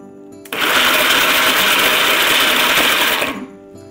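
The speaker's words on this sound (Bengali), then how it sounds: "ব্লেন্ডারে অল্প ঘুরিয়ে বাটন অফ করে" An electric blender grinds mutton mixture for jali kebab in a loud, steady whir that starts abruptly, runs about three seconds and cuts off, with no talking.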